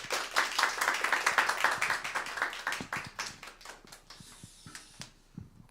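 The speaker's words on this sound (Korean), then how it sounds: "우리 선교사님 나오실 때 우리 환영의 박수를 한번" A church congregation gives a missionary welcoming applause at a Sunday service, starting as a lively round of close clapping that thins out into scattered, slower claps as it dies down.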